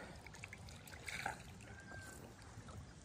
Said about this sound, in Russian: Речка Кахем. Малый Енисей.